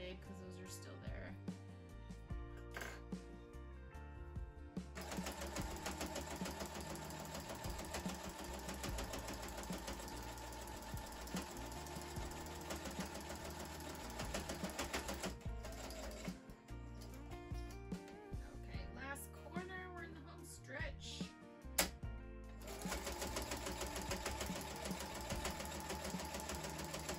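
A sewing machine stitches a baby blanket in slow, steady runs, its whirring motor rising and pausing across the stretch, with background music and occasional talk over it.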